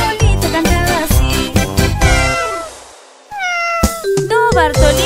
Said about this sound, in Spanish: No, Bartolito, eso es un gato.